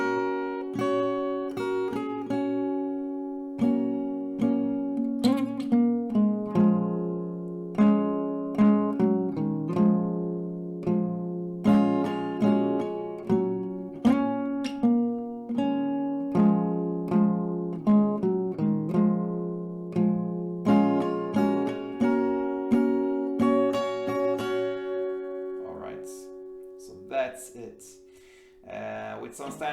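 Acoustic guitar picking a song intro at a slowed tempo, with clear plucked notes and chords ringing close and steady for about half a minute, then a brief pause and rustle at the end.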